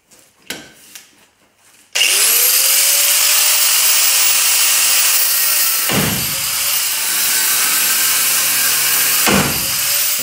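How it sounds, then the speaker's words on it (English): Steady, loud cutting noise on the U-bolts of a Chevy C10 square-body axle, starting abruptly after a few knocks and running continuously, with brief pauses where the blade shifts. "So now we're gonna start cutting."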